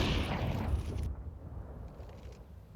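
Grenade blast in Counter-Strike on the Inferno map during a competitive esports match: a loud, broad boom opens the clip, then a low rumbling tail that fades over a couple of seconds, with no talk.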